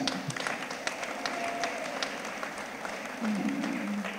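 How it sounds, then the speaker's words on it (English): An outdoor audience at a community dance event claps for volunteers, a moderate patter of hands under light background murmur and a brief voice. "Give them a round of applause."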